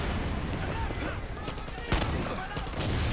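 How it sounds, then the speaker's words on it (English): Far Cry 6 gameplay with rapid, dense gunfire bursts from a shotgun and other weapons, loud and continuous, with one sharper blast near the middle. "Bro, this shotgun's so good."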